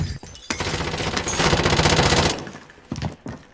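Rapid automatic gunfire in the video game Call of Duty: Warzone rattles continuously for about two seconds, preceded and followed by a few single shots, loud and close.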